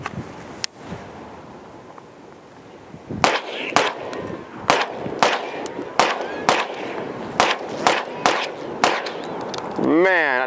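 A Staccato CS pistol fired at an outdoor range: a string of about ten sharp, evenly spaced shots with ringing echoes, preceded by one isolated crack and quiet background talk.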